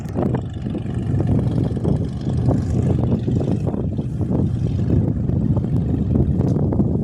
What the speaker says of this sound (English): Here's the Cessna C172 that's just landed.